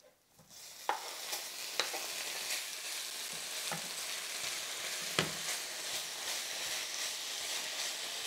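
Chopped bacon sautés in a frying pan with a steady close sizzle and hiss, broken by a few scattered clicks as it is stirred, with no talk.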